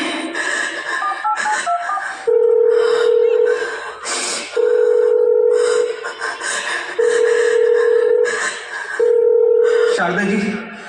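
A phone being dialed during a school Republic Day stage performance, a series of beeping tones, then long steady ringback tones repeating with pauses between them, fairly loud and close.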